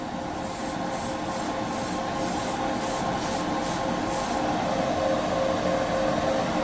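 An airbrush sprays paint inside a cheap hobby spray booth: a steady hiss over the booth's constant fan hum, broken by a run of short, rhythmic spray pulses before settling back to the even drone.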